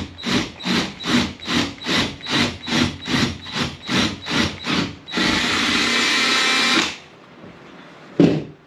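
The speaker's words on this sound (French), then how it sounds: "on perce tout simplement un trou à 9 mm" A drill bores a 9 mm hole with a 9 mm bit, starting in a dozen rhythmic pulsing bursts, then running in one steady high whine for about two seconds before stopping, followed by a brief knock.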